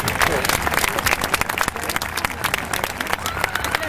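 An outdoor crowd at an animal blessing festival gives a hearty round of applause to welcome a very shy horse named Capità Amigo, loud close clapping with some cheering and voices mixed in.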